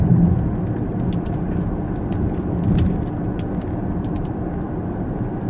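Inside a Range Rover Vogue TDV8 cruising steadily at 60 mph, a continuous low road and engine rumble holds even throughout, with faint hiss and small ticks on top.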